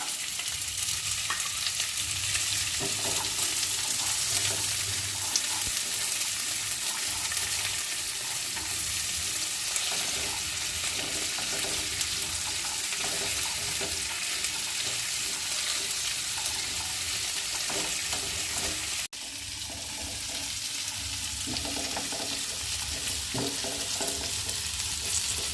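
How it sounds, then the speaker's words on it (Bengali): Green beans stir-fry in a pan with a loud, continuous hiss and sizzle close by, broken by occasional scraping stirs; a brief dip near the end, then the frying carries on steadily. "দিয়ে এগুলোকে একটু ভাজা ভাজা করে নিতে হবে।"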